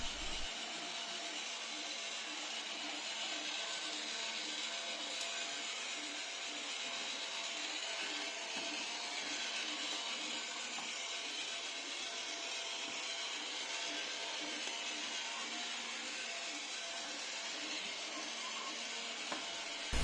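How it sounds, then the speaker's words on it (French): A Proscenic F16 cordless two-in-one vacuum mop cleans crumbs from a floor, giving a steady, unbroken motor whir and hiss that holds at an even level throughout, with no talking. "je me tais pour vous laisser écouter le bruit de l'aspirateur."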